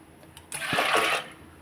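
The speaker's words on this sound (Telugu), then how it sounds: "పప్పులో వాటర్ పోస్తాను కదండి" Water poured into soaked lentils in a pan, a brief splashing gush that swells after a quiet start, holds for about half a second, then fades.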